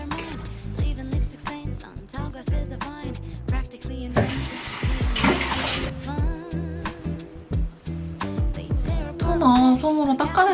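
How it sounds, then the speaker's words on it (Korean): Running tap water splashes as a face is rinsed clean of cleansing milk; a steady rush of a couple of seconds swells mid-clip over a busy background of other sounds. "이렇게 하고 물로 헹궈줍니다"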